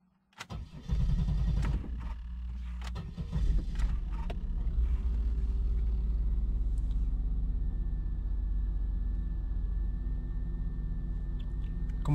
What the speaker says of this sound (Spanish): voy a apagar el vehículo y lo voy a volver a encender para ver si aparece el check engine ahora sí